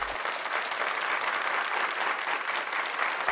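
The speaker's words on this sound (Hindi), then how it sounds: "रजिया के लिए जोरदार तालियां" Steady, loud applause from a studio audience for a quiz show contestant, continuous clapping throughout with no voices over it.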